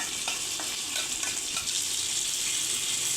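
Green chillies fry lightly in oil in a pan, giving a steady, close sizzle with faint scraping stir sounds and no voices.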